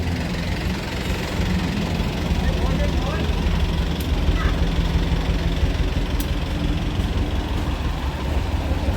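A truck idles with a low, continuous engine rumble on a flooded street in Bangkok's Chinatown, steady throughout with faint background activity and no clear voices.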